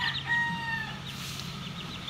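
A rooster crows on a rural backyard farm among hens and chicks, one clear drawn-out crow near the start trailing off, with clucking and farmyard bustle continuing underneath.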